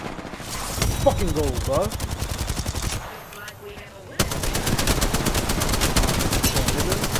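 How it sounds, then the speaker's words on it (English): Rapid automatic weapon fire in the video game Apex Legends, dense rattling bursts that break off briefly and then resume at full intensity, with players talking over the shooting. "Taking fire!"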